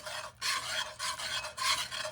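A gumbo roux is stirred in a pot, giving a steady rhythmic raspy scraping with about four long strokes separated by brief pauses, close and fairly quiet with no voices.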